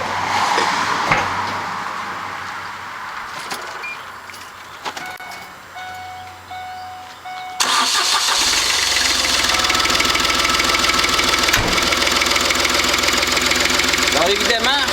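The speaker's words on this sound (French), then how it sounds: "on démarre le moteur." A Smart CDI diesel running on filtered vegetable oil cranks and fires up, then settles into a loud, steady running clatter. Talk is heard over the quieter stretch before the start.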